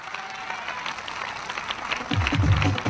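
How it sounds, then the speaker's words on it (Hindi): A crowd at a Safe Shop business motivational gathering claps continuously, a dense patter of many hands, while a low voice starts speaking over it in the final second. "जोरदार तालियां"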